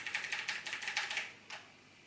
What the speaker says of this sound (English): my old keyboard is this Logitech keyboard